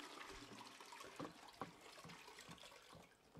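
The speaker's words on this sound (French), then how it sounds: "Au moins, la tire à chasse d'eau." A toilet flush in the video game Dordogne, set in caves, gives a soft, faint watery gurgle and swirl with a few small splashy bursts.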